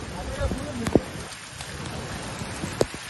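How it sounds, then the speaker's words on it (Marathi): Rain pours steadily on a beach at Alibag, a constant close hiss of drops with a few sharper splashes, and faint voices in the background. "पाऊस आला, स्कॅम झाला"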